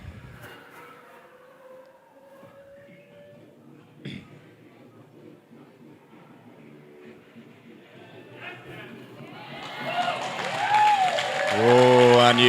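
A crowd at a bouldering competition swells into loud cheering and applause over several seconds, building from quiet murmurs to an enthusiastic roar, with a commentator talking over it.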